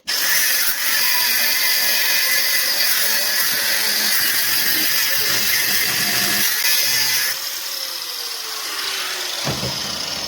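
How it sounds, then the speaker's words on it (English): A power tool cuts steadily through Detroit Axle lower ball joints for a first-generation Toyota Tacoma. The grinding, sawing noise is loud and continuous, eases slightly near the end, and then stops abruptly. "So today we're cutting up first gen Tacoma lower ball joints"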